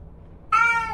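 A cat in a hotel room lets out one loud, sudden yowl after a moment of near silence, heard alone and close.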